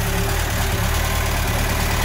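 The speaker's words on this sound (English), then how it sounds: "It's running a 1500cc engine with dual downdraft Weber carbies." A 1965 Ford Cortina GT500 with its original restored 1500cc engine and dual downdraft Weber carburettors idles with a steady, even low rumble, close and fairly loud, with no talk.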